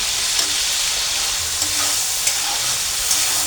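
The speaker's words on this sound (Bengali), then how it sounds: "চিংড়িটা আমি দিয়ে দিয়েছি, চিংড়িটা তেলে দিয়ে দিয়েছি।" Prawns frying in oil with salt and turmeric give a steady, close, bright sizzle and crackle that runs unbroken for the whole stretch, with a few sharper pops.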